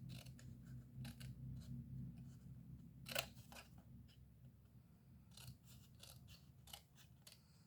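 Scissors snip through folded paper toward the fold, a faint series of short crisp cuts with one sharper snip midway, quiet and close in a calm room with no talking.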